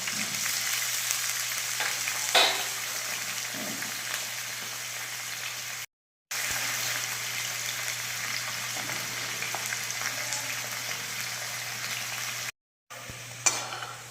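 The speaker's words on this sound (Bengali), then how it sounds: "আমি তেলটা গরম বসিয়ে দিয়েছি, এবার আলুগুলো প্রথমে ভেজে নেব।" Potatoes frying in hot oil for a Bengali bata fish mustard dish give a steady, close crackling sizzle throughout, with brief stirring scrapes, and the sound cuts out twice.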